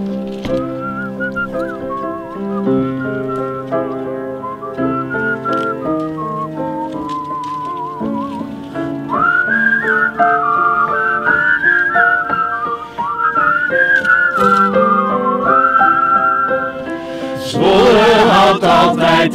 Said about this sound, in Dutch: Het bewijs vormt dit liedje dat Rick voor u fluit.